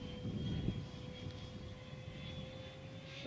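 Remote-control MiG-15 ducted fan electric jet model under throttle, giving a steady high-pitched electric whine over a rumbling airflow roar, continuous and moderately distant, with no talk.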